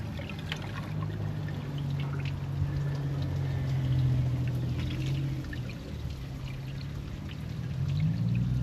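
Distilled water poured into the cooling system of a 2004 Subaru Impreza during a coolant flush, a continuous close pouring gurgle with a low resonant hum, rising slightly in volume toward the end.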